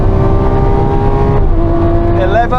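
An older Lamborghini Aventador launches and accelerates hard, its engine roaring loud and close with rising pitch, then a shift change near the end, heard from inside the car.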